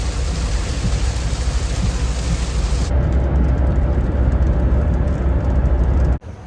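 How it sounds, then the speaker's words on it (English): Steady heavy rain drums on a car during a night road trip, a dense continuous wash that cuts off abruptly at the end. "the rain's coming down again"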